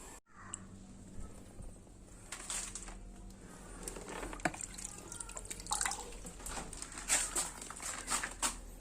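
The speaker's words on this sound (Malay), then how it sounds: "sekarang ni saya dah mula masukkan air" Water running and dripping into a canvas fish pond being filled for giant multicolor betta fish, with a steady trickle and scattered splashy drips throughout, fairly faint and close.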